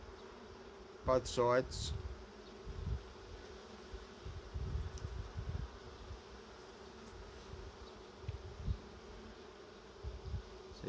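Honeybees hum softly around an open hive during a UK brood inspection, with a low, uneven buzz throughout and a short burst of speech near the start.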